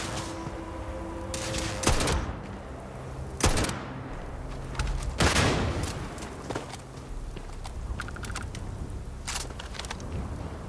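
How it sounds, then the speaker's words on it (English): Gunfire in the video game Starfield as shots are aimed at ghosts: a few sharp, loud bursts spaced several seconds apart, set against steady background game ambience and scattered clanks. "Shooting at ghosts now."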